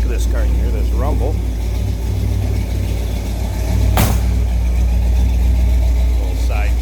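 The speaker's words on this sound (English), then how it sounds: "Let's go ahead and slip around in the back of this car and hear this rumble." Exhaust rumble from a 1962 Chevrolet Impala with side dump exhaust, a steady low idle drone heard close from behind the car, with a brief louder burst near the middle and some talk over it.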